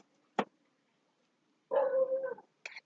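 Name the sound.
dog barking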